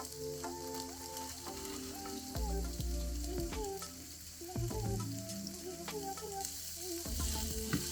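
Pork and spinach stir-fry sizzles steadily in a pan, with repeated scrapes and clanks of a utensil stirring and tossing the wilting greens and meat, close and fairly loud throughout.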